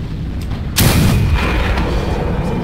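A tank in the World of Tanks video game takes a shell hit: a sudden loud explosive impact after a quiet start, followed by a sustained rumbling roar that stays loud to the end.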